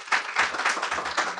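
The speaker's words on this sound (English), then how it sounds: "Let's give them a big round of applause." At a school district board meeting, a small group applauds employees of the year with a short burst of uneven hand clapping heard up close.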